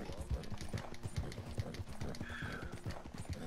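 Horse hooves clip-clop steadily at close range in Red Dead Redemption 2, a regular beat of sharp thuds running the whole time, with a brief whinny-like tone midway and faint background voices.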